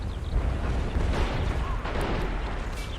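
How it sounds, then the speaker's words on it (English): An anti-tank gun blows apart in the World War II strategy game Men of War: Assault Squad, set during the 1941 invasion of the USSR, a dense low rumbling blast that stays loud and churning for the whole stretch, with faint talk mixed in. "Looks like that AT gun was blown to smithereens"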